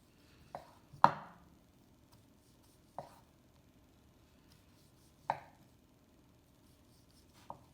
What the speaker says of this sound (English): And then I'm going to take this quarter and cut it into slices.